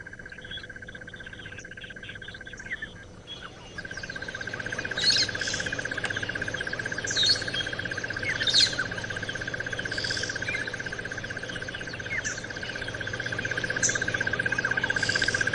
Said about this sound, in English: Lots of bird calls, but no leopard sawing the side and no lion calling the side